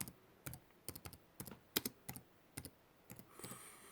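Keystrokes on a computer keyboard while entering a fastboot command to flash recovery on a Moto G5 phone, sounding as single sharp clicks and short pairs in an irregular rhythm, close and quiet, with no voice.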